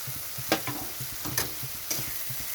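Green chillies, four or five of them, sizzling in a frying pan, a constant quiet crackle of hot oil with soft rhythmic stirring scrapes and a few brief louder clatters, no voices.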